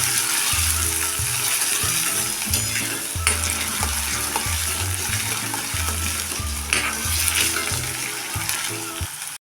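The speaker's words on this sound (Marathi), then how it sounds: "हा एकदम बारीक चिरलेला कांदा आम्ही कटरवर चिरून घेतलेला आहे कांदा चांगला मऊ पडेपर्यंत परतून घ्या" Finely chopped onion sautéing in hot oil in a pan, a loud continuous sizzle broken by rhythmic scraping strokes of a spoon stirring it, close and steady with no talking.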